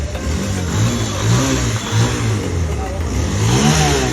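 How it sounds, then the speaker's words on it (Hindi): A Bajaj Pulsar RS 200 motorbike engine revs up and down during a test ride, the engine tone rising and falling steadily over continuous road and wind noise, fairly close and loud throughout. "वहाँ पे चंदन भैया ले जा रहे हैं बाइक को टेस्ट करने के लिए"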